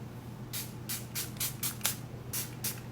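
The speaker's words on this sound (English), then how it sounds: "I'm just going to spray one side of my face with this" Makeup setting spray from a mister sprayed onto one side of a face: eight short, soft hissing bursts in an uneven rhythm, close and fairly quiet over a low background hum.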